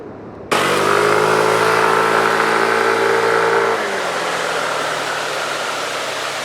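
A Yamaha Cygnus Gryphus scooter engine hums steadily and loudly on a test ride, its tone holding even for a few seconds before the revs drop and it settles into a lower, quieter drone.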